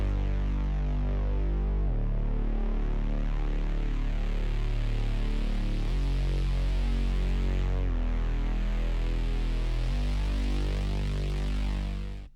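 A heavy synth bassline from the Serum plugin in FL Studio, deep and buzzing with note changes every two seconds or so, loud and continuous with no voices.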